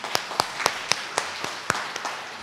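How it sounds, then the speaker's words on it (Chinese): A church congregation at a Taiwanese-language Sunday service claps together, crisp separate claps at a loose, fairly regular pace, moderately close, with no talk over them. "咱大家人鼓掌"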